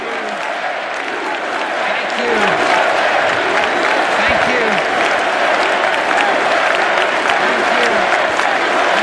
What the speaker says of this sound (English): we'll stop when the applause dies down